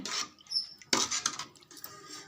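Fish kuzhambu ingredients, with chilli powder among them, are stirred together in a vessel, giving close scraping and clinking of a spoon against the pot in short bursts with brief pauses and no talking.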